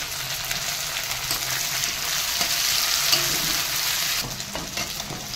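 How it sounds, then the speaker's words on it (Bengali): Chopped onions, tomatoes and capsicum sizzle and fry in a pan, a steady close crackling hiss with faint stirring movements throughout and no voices. "তাহলে পেঁয়াজগুলো দিয়ে দেবো, লাল লাল করে দেবো। এই টমেটোগুলো দিয়ে দেবো, ক্যাপসিকাম"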